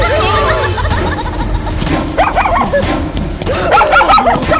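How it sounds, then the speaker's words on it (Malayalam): A dog yips and barks in excited, high-pitched bursts amid a noisy scene, with voices and laughter mixed in beneath it. "പട്ടി"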